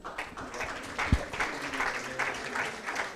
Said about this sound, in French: Vous allez vous retirer sous les applaudissements.